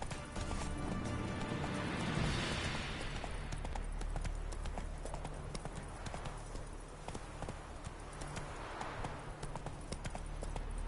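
Roach, Geralt's horse from The Witcher 3 game, gallops with a rapid, steady clip-clop of hooves over a dense background rumble of rushing movement and wind.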